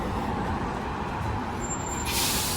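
A London double-decker on route 423 drawing up at a stop, with a steady loud engine and road rumble and a sharp hiss of air brakes releasing near the end.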